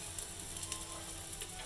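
Onions frying in a pan on a gas stove, cooking until golden for a savoury cracked wheat dish, give a steady close sizzle with soft crackles throughout.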